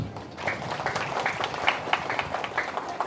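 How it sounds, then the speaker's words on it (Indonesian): Audience applause following a call to clap at a talk, a few seconds of scattered, moderately distant hand claps forming a loose, uneven patter. "Tepuk tangan dulu."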